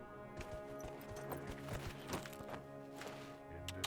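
Horse hooves clip-clop in a steady walking rhythm in the fantasy game Dragon Age: Inquisition, close and moderately loud over a busy background of game ambience and music.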